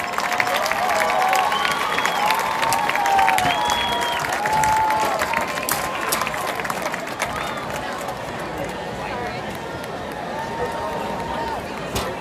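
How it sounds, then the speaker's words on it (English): Crowd applause and scattered cheering rise for a high school homecoming court at a Friday night football game, strongest at first and then easing, with a public-address voice and whistle-like tones. "Another round of applause for the"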